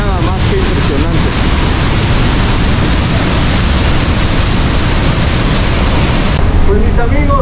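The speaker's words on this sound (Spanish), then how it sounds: "hoy estamos aquí apreciando este rugir de esta cascada" Roaring waterfall at Pailón del Diablo in Baños, Ecuador, a loud, steady broadband rush of falling water that fills the whole stretch without pause, up close and dominant, with no voices over it.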